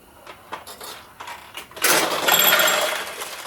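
A metal ball is fired through a restored 1975 Nishijin Model B pachinko machine, with light mechanical clicks and taps followed by a louder burst of rattling, clattering play that continues to the end.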